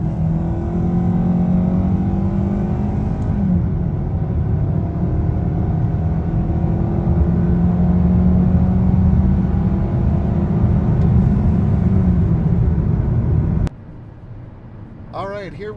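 A 2025 Hyundai Sonata accelerates at full power, its engine droning loudly and steadily from inside the cabin with rising road and wind rumble, then easing off near the end.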